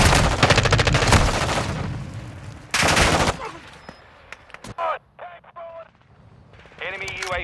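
Rapid automatic gunfire rattles in bursts during a Call of Duty: Modern Warfare II multiplayer match, loud close volleys followed by quieter sporadic shots and radio-style voice callouts.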